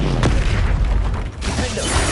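A Bombarda spell explosion in Hogwarts Legacy lands as a loud, dense boom, a short burst of blasting noise that fills the moment and eases briefly before carrying on.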